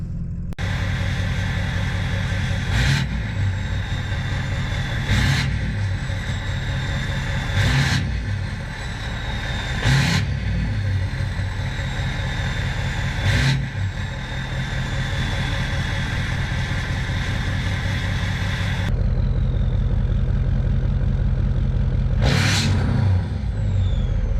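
A 6.0 Powerstroke diesel pickup engine idles with a heavy low rumble, broken by several sharp bursts of hard full-throttle revving, each rising briefly before settling back.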